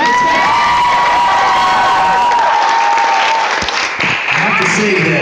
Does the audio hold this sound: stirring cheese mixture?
no